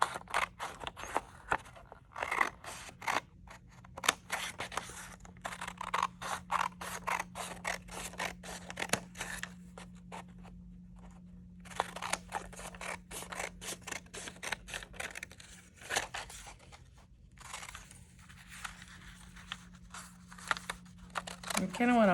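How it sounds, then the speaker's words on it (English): Scissors cut along drawn lines in paper while preparing a West African kente weaving project, a long run of quick, crisp snips and paper rustles in uneven bursts with short pauses between them. "you're going to take a scissors and you're going to simply cut these lines that you just created"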